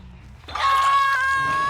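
A survivor screams in the video game Dead by Daylight, one loud sustained high-pitched cry rising suddenly out of low game ambience and holding for over a second.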